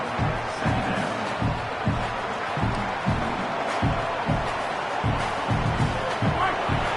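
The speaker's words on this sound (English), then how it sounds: "This crowd rising up" Football stadium crowd at a Texas Tech versus Michigan college game, a dense, steady roar of many voices rising and cheering, filling the whole stretch with rhythmic surges.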